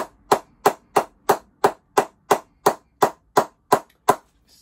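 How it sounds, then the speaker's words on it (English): A wooden mallet taps a brand-new CP Custom Range cricket bat in twelve evenly spaced, sharp pings with a ringing knock, moving along the blade from bottom to top, close and loud with no talking. "Let's check out the mallet ping on this bat and see how the sound is with the mallet"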